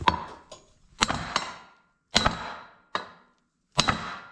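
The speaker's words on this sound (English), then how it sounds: "I'm gonna beat on this just a little bit with my sledgehammer and see if we can break that loose." A sledgehammer pounds a stuck drive shaft on a 1966 Chevy dually truck, five or six sharp metallic blows spaced unevenly about a second apart, loud and close, with no talk.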